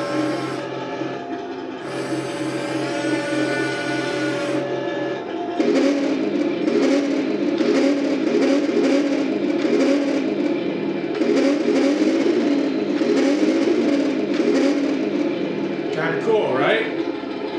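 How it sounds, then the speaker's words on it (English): Turret motor of a Heng Long Challenger 2 1:16 scale RC main battle tank, a continuous whirring, buzzing electric drone with rising and shifting pitch, loud and close, running steadily with a brief squeal near the end. "Now listen to the turret on this one."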